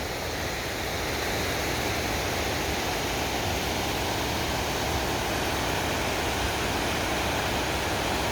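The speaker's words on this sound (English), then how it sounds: "And those are the beginner rapids." Rushing water fills the whole clip as a dense, steady roar of beginner river rapids in Shillong, Meghalaya, with rising water levels, continuous and unbroken, with no voices.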